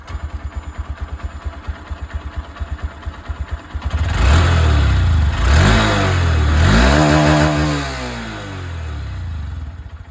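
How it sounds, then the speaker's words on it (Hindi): A Honda SP125 motorcycle idles with a close, pulsing exhaust putter, then revs up loudly several times, the engine note rising and falling before settling back toward idle. "तो एग्जॉस्ट साउंड भी मैं आप लोगों को सुना दूँ। स्टार्ट करते हैं एसपी 125 के साथ।"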